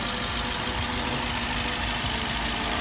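Close, steady idle from the engine of a used MPV with an automatic transmission and engine sound dampening, a continuous low rumble with slight knocking texture and no talk.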